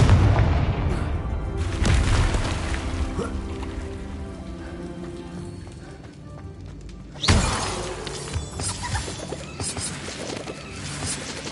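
Confringo spell blasts in Hogwarts Legacy, a loud crashing explosion with shattering debris that fades into a long rumbling tail, followed by a second sharp blast and crackling fallout.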